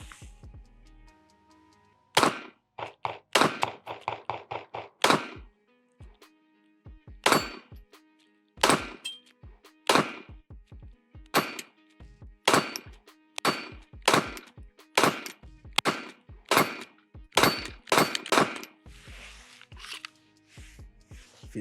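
A Taurus TX22 polymer .22LR pistol fires a long string of sharp, loud shots at steel plates, in quick bursts and then steadier single shots with short pauses, each crack ringing briefly off the metal.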